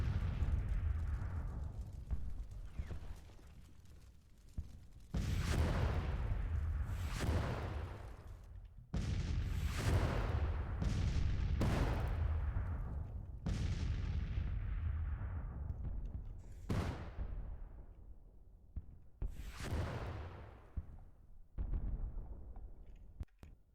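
Guns pound a crumbling factory building in the Civil War strategy game Grand Tactician, in a 1861 campaign: repeated heavy booming blasts, each followed by a long rolling rumble that fades before the next.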